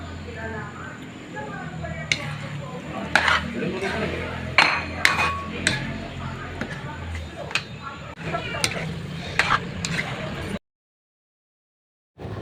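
Egg added to eggplant cooking in a pan for a poqui-poqui dish, with a constant close sizzle under sharp, irregular metal clinks and taps of a utensil, ending in sudden silence.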